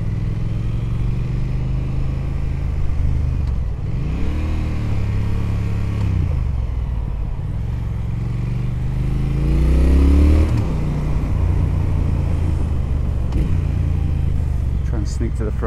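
2018 Triumph Thruxton R motorcycle ridden through central London in sport mode, engine rumbling loudly and revving up and down through gear changes, with a rider speaking over it.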